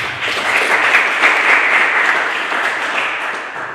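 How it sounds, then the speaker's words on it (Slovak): Audience at an awards evaluation of a Zvolen bike-to-work event applauding, a dense steady round of clapping that holds throughout and tapers slightly at the end. "Asi potlesk."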